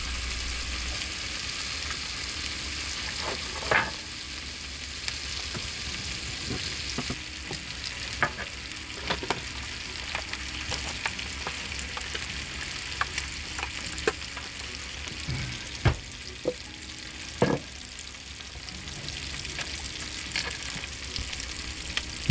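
Steak frying in a pan with rosemary and thyme inside a converted Suburban camper, a steady close sizzle with scattered sharp pops and occasional stirring clatter, no talk.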